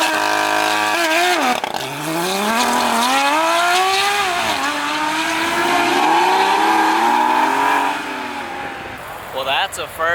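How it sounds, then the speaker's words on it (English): A brand-new Porsche 992 GT3 RS with a flat-six engine and straight pipes launches on launch control at a night car meet, roaring loud and close as its revs climb through several rising gear pulls before fading. "that's a first time actually seeing the launch control on a brand new 992 GT3 RS"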